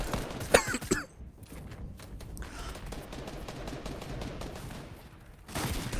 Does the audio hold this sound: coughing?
yes